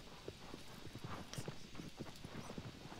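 Horse hooves clip-clop steadily in the video game Shadow of the Colossus, an even, rhythmic trot of close, distinct hoofbeats over a low ambient bed, with no talking.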